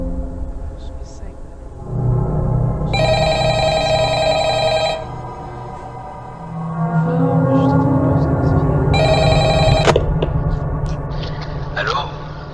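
An old-style telephone rings in the Five Nights at Agars horror game, two long bright ringing bursts separated by a pause, loud over a low droning game soundtrack.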